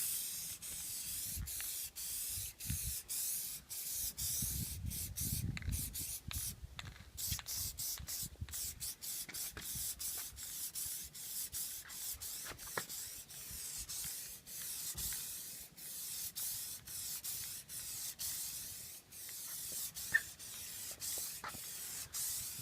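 Aerosol spray can laying a dip coating onto a Mustang GT, with repeated hissing bursts in short regular strokes, fairly close and steady, broken by brief pauses and no talking.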